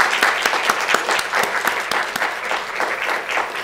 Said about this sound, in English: Please join me in a round of applause as we celebrate their achievements.